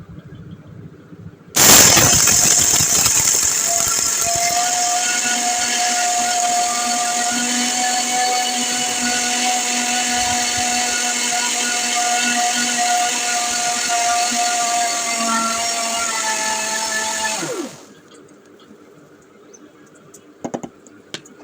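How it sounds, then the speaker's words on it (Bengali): A kitchen mixer grinder jar grinds chickpeas into flour for sattu, starting abruptly with a loud, dense whirring roar that holds steady for about sixteen seconds before cutting off, followed by faint clatter. "তারপর দেখো দিয়ে দিলাম মিক্সি জারে। তো এখন ভালো করে ছোলাটা পিষে নেব।"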